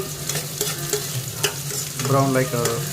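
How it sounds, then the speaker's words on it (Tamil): Onions sautéing in a pan over a low flame until brown, a steady close sizzle with scraping stir strokes that grows slightly louder toward the end, with no talking. "ஒரு கம்மியான அளவில் ஃப்ளேம் வச்சு நல்லா வதக்கிக்கணும்."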